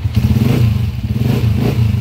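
A motorcycle engine idles steadily up close after a kick start, a low throbbing rumble with slight rhythmic pulsing throughout; the motorcycle has a replaced timing gear but still runs noisily.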